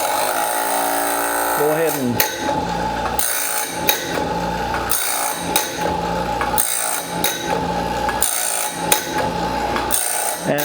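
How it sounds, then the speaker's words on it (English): A sawmill blade sharpener runs with a steady motor whine and a repeating grinding rasp as the wheel meets each tooth in a regular rhythm, and a voice speaks briefly. "let's turn the sharpener on and see"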